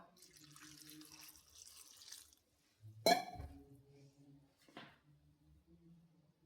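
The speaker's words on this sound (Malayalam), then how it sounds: "കുറച്ച് വെള്ളം ഒഴിച്ചു കൊടുക്കുക" Water runs in a steady stream into a pan of chopped onion and green chillies, then stops abruptly with a clunk; faint running water resumes briefly afterward.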